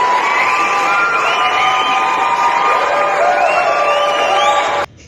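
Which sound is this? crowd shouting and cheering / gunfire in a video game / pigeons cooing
crowd shouting and cheering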